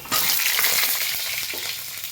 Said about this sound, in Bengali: আলুগুলো দিয়ে লাল লাল করে ভেজে নেব।